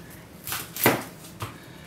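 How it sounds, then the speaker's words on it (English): A knife cuts through an onion on a cutting board while preparing mujaddara, with two or three distinct crisp chops standing out over quiet room noise. "I'm going to cut up the onions before we caramelize them"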